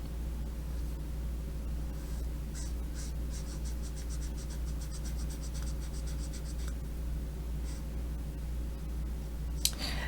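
A Copic marker, colour BG53, shades a shirt on paper in close, scratchy back-and-forth strokes, fast rhythmic bursts over a low steady hum.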